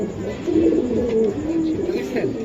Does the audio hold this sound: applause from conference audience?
no